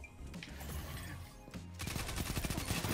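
Rapid submachine gun bursts in Destiny 2 PvP, the Parabellum SMG, crackling in dense repeated volleys that intensify toward the end, with other game sounds mixed in and no talking.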